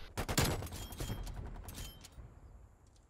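Hostile sentry turrets in a multiplayer shooter firing rapid bursts, a loud rattling volley up front that thins out into a few scattered shots and a quieter tail.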